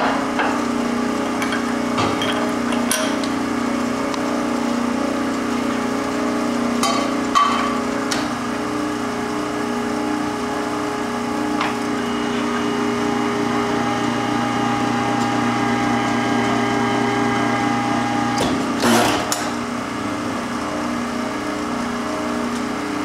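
A HUTH tube-bending machine forms 6-inch-diameter stainless steel tube with a controlled wrinkle die, giving a steady mechanical hum and drone throughout with a few sharp clanks and knocks, loud and close, with no talk.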